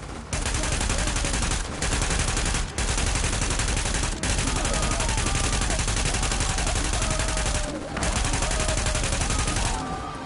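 Dense, continuous gunfire from The Division game, with sniper rifle shots mixed into a constant loud barrage and only a few brief gaps.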